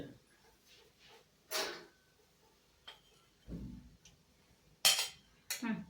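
A spoon clinks against a dish of egg usli with puffed rice. Several sharp, bright metallic taps stand out near and separate, with soft handling noise and a low thud between them.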